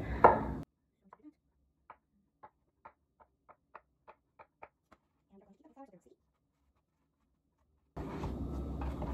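A knife cuts a log of soup dumpling dough into pieces for pan-fried shengjianbao, giving about ten faint, evenly spaced taps on a board, with talking just before and after.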